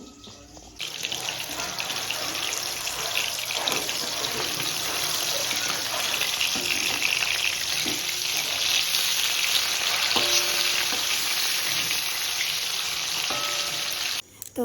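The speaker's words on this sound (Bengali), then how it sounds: "মাছ ভাজাটা উল্টে দিয়ে আবার বসে পড়লাম" Fish sizzles steadily in a pan in a home kitchen, a loud, continuous frying hiss that runs almost the whole time with scattered pops and a few brief clinks of utensils.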